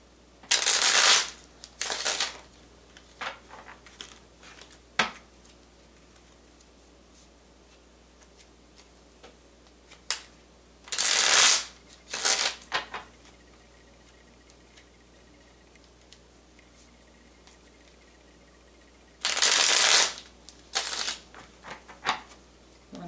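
Tarot cards are shuffled in several short riffling bursts, separated by quiet stretches with occasional light taps.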